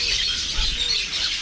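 Birds at a pet sanctuary in Bangalore squawk and chirp nearby in a steady, bright chorus.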